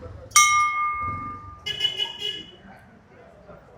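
A temple bell struck by passers-by on a busy street in Nepal, one bright ringing strike with a sustained, slowly fading tone, followed by street clatter and background voices.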